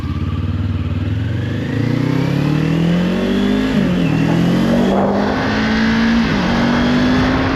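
A vehicle engine, close and loud, revs up as the throttle blips and then drops through a downshift. The pitch climbs, dips and climbs again in one smooth sweep, with no talking over it.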